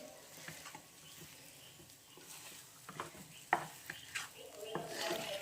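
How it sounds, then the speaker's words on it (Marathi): A spoon stirs a date sweet mixture in a pan after cardamom and nutmeg powder go in, with soft scraping and light clinks over a faint low hiss, and a few sharper knocks near the end. "आता आपण याच्यामध्ये वेलची पावडर टाकून घेऊ वेलची आणि जायफळ पावडर टाकून घेऊया आणि याला पण छान असं मिक्स करून घेऊया"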